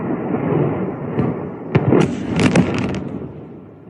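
Footage of missile strikes exploding, heard as a deep rumbling roar with several sharp cracking blasts in the middle, dense and loud against a constant low background.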